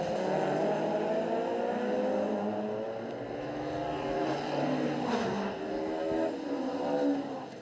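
Historic touring race cars from the Tourenwagen Legenden class pass on track, a loud blend of roaring engines that swells and fades as they go by, with no voices.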